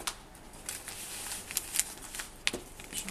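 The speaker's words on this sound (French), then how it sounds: "Donc, on va découper les pièces." Scissors cut through paper sewing pattern pieces: a few crisp, close snips and rustles, with the sharpest cuts near the middle and end, and no voices.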